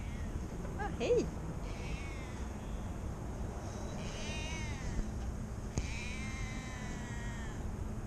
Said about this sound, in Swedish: En katt här.